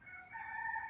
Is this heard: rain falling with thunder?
no